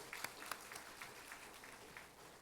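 Scattered, faint applause from a Korean church congregation at a Sunday morning service, honoring an elderly senior-college choir leader; the thin, distant clapping carries on steadily for a couple of seconds.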